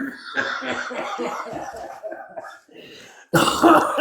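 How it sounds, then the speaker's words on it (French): Several rough coughs and throat-clearing sounds close to the microphone, mixed with a voice, ending in a louder burst of coughing. "Oh, faut que j'arrête de tousser, moi."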